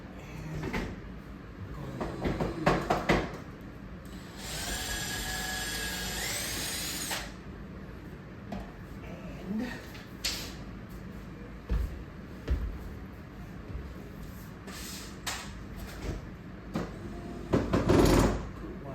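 A power drill boring holes through quarter round trim into a baseboard, with a steady whining burst of several seconds near the middle, shorter tool and handling noises around it, and light clatter and thumps close by.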